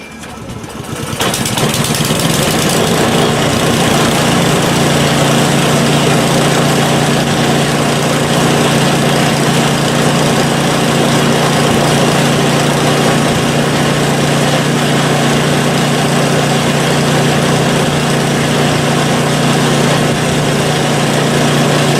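A PowerSmart 24-inch snow blower engine starts and runs steadily at close range, a loud, constant droning rumble that holds evenly for about twenty seconds with no talking.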